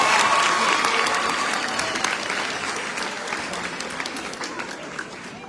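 An audience claps steadily through a school learners' function, dense applause filling the hall and slowly tapering off toward the end, with no voices standing out.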